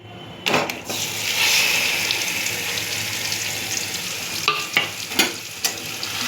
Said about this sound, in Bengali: তেলের মধ্যে ডিমগুলো ছেড়ে দেব।